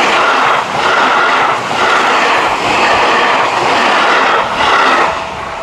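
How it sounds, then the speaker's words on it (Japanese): A Seibu Laview limited express train runs past out of service near Motokaji station on the Seibu Ikebukuro Line, a loud, close, continuous rushing roar with rhythmic swells as the cars go by. "特急電車の車両でラビューでしたが、回送でした"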